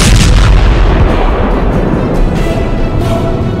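Indian Air Force fighter jets fire at Pokhran: loud, rumbling booms of explosions and heavy firing roll on continuously, deep and distant-sounding, with no voices.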